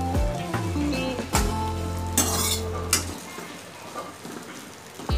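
Chopped capsicum fries in a kadhai for dhaba-style kadhai paneer, a steady sizzle broken by a few clinks of a spoon stirring against the pan, with a musical hum and beeping tones in the first few seconds.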